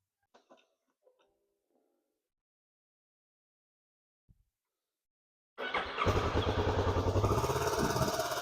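A stunt motorcycle engine starts up after several seconds of near silence and a few faint knocks, then runs loud and close with a rough, pulsing revving roar to the end.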